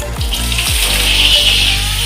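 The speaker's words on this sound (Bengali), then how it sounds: "এই বিনসটাকেও হালকা করে ভেজে নিতে হবে" Green beans fry in white oil in a kadai for paneer korma, giving a loud, continuous close sizzle with a few low thuds from stirring early on and no voices.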